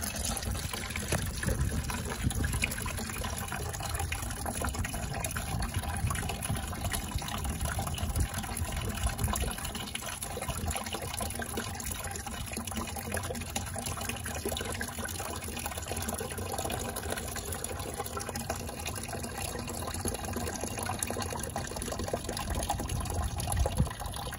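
Water sloshes and trickles inside the hull of a Carolina Skiff boat, a continuous gushing, dribbling wash at close range that runs throughout.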